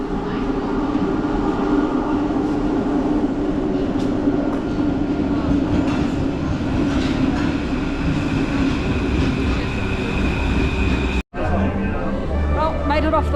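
A Paris metro train runs with a loud, steady rumble and rattling clatter that fills the whole stretch, with indistinct voices mixed in and a brief dropout near the end.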